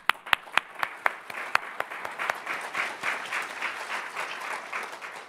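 An audience at a university presidential inauguration breaks into applause, a few sharp separate claps at first quickly swelling into steady, dense clapping from a crowd.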